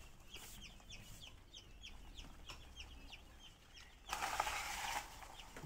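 A brooder holding about 200 newly hatched quail chicks gives a steady stream of soft, high peeping at low level, with a brief louder rush of broadband noise near the end.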